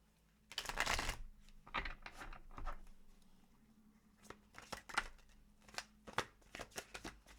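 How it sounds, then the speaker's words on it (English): Tarot cards are shuffled and moved about by hand, quiet crisp riffling and shuffling bursts recurring in irregular clusters, with a faint room echo. "I keep going to moving all my cards different places to shuffle them."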